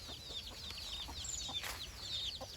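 Soft, repeated alert clucking from a mother hen with chicks in an open yard, amid chirping birds in a quiet outdoor setting, fairly faint and continuous.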